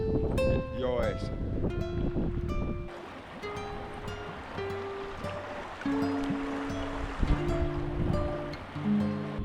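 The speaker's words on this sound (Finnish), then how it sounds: "Se on jännä, kun täällä tuulee aika kovasti." Strong wind by a river in Urho Kekkonen National Park in Finland, a steady rushing gust and water noise close to the microphone, with people talking over it throughout.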